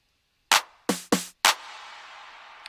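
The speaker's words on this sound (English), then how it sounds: "I've got another return, which is a reverb chain" Reverb chain on a return track, used before the drops of a dance track: four sharp percussive hits, each followed by a short decaying wash, the last trailing into a sustained reverb tail, heard alone with no voices.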